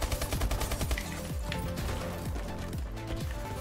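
Rapid automatic gunfire in Call of Duty: Advanced Warfare, a fast rhythmic stream of loud shots with mechanical clatter that runs nearly the whole time and carries no talk.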